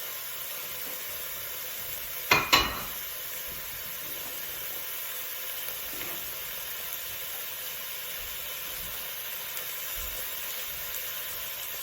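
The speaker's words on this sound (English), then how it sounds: "Now we need to stir our minced meat with the garlic and the onions" Minced beef with garlic and onions in a pan for a stew, giving a steady soft sizzle and hiss throughout, with one sharp pair of utensil knocks early on and faint occasional stirring scrapes.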